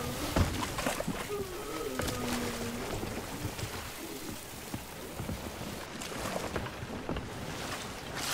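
A sailing ship moving across the sea in the pirate video game Sea of Thieves, with steady broadband water wash and creaking under the crew's intermittent talk throughout.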